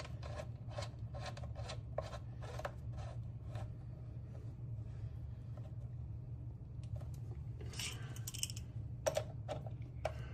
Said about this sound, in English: now you want to take that hose and screw it into the bottom of the bidet